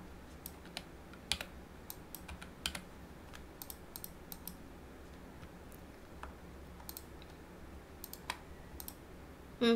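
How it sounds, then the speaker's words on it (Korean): Computer keyboard keys click in a quiet room as graphics work goes on, a steady scatter of light close taps and a few sharper keystrokes such as shortcut presses, with no voices. "컨트롤 B 이렇게 작업을 해볼게요"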